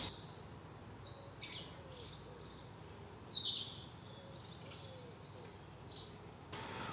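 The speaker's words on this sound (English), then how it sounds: "sparrows are back" Sparrows outdoors, scattered short high chirps and tweets at a moderate distance over faint background noise and insect hum.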